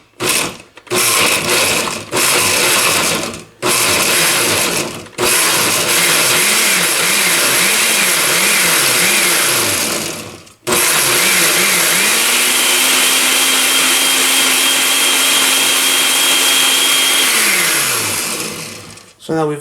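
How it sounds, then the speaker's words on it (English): A blender pulses roasted tomatillo salsa in short bursts, several quick motor whirs cut by pauses, then a longer run that rises in pitch as the mixture smooths, loud and close. "we're going to go ahead and set this blender to pulse"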